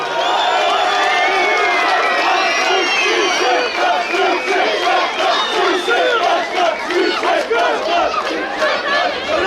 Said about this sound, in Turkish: Evet daha çok alkış olması lazım şu an.